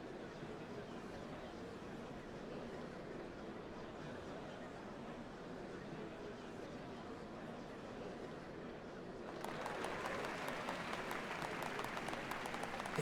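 Crowd murmur at a ceremony in the video game Final Fantasy XIV Dawntrail, a dense steady wash of many voices that swells with applause-like clatter in the last few seconds.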